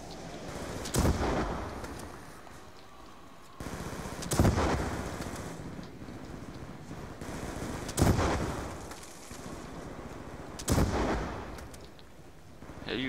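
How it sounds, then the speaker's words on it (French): Bazooka blasts go off in a zombie video game, four loud sharp reports spaced a few seconds apart, each followed by a rumbling tail over low background noise. "le bazooka, il passe à travers le zombie"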